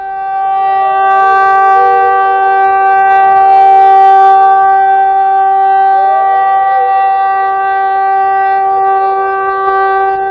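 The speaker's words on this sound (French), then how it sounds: "la sirène retentit comme une alerte" A civil-defence siren wails at sunset to mark the end of the day's fast, loud and steady for the whole stretch, its pitch rising and falling slightly over a constant tone.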